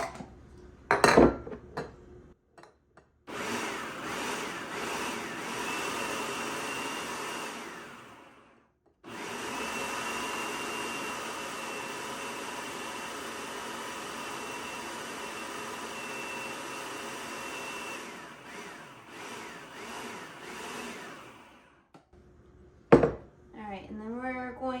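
A food processor or blender whirs through ingredients in two long, steady bursts split by a short pause. Clatter comes just before and just after the motor runs.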